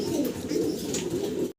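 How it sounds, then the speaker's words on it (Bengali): Black-laced Shirtin pigeons cooing softly and steadily at close range, a low continuous murmur running for about a second and a half before cutting off. "একজোড়া, কি বলে শার্টিন, ব্ল্যাকলেস শার্টিন কবুতর"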